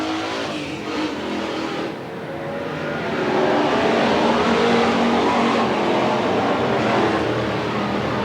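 Race cars roar around Willamette Speedway, a dense engine din that swells louder midway as cars pass, with no talking over it.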